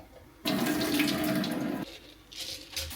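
Tap water runs into a kitchen sink as parsley is washed, starting abruptly as a loud, close, steady gush that cuts off after about a second and a half, followed by softer splashing and dripping.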